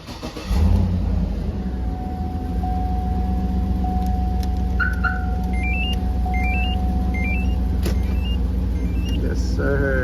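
A 2007 Cadillac Escalade is remote-started with a Compustar remote starter: a brief thump, then a steady idling engine hum with a long electronic tone and a run of short chirping beeps, a voice speaking faintly underneath.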